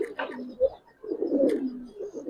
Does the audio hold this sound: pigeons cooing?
yes